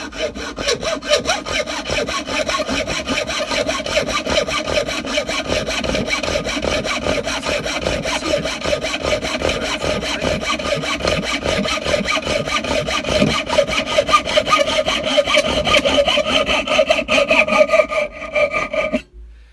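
A hacksaw cuts through a paint roller in fast, steady back-and-forth strokes, loud and close, running without pause until it stops abruptly at the end.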